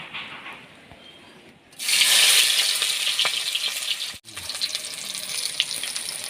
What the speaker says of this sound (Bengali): তো তেল গরম হয়ে গেছে, এবার আমি পেঁয়াজগুলো দিয়ে দিচ্ছি।